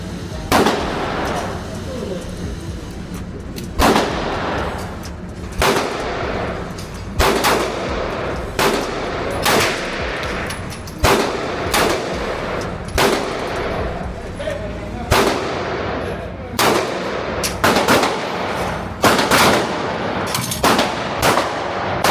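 Gunfire at an outdoor shooting range, loud sharp reports fired in irregular bursts of single shots with short pauses between, some close together, over steady background noise.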